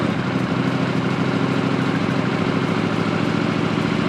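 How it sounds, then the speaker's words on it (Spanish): A motorcycle engine with a fault idles steadily at close range, a low continuous rumble with constant vibration and no pauses. "voy a arrancar la moto para que veáis"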